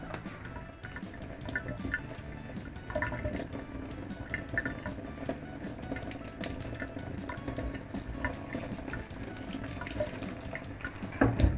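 Water runs steadily from a kitchen tap while water balloons are being filled, a continuous splashing hiss with occasional drips, fairly close and with no voices.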